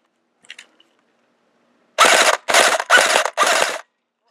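An airsoft AEG rifle fitted with a Fox barrel fires four rapid full-auto bursts, close and loud, each a dense buzzing rattle, after a couple of faint clicks and a pause of silence.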